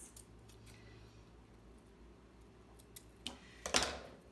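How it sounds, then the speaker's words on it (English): A few quiet snips, then a louder close scissor cut slicing through magazine paper near the end. "I'm going to cut it with my scissors like this"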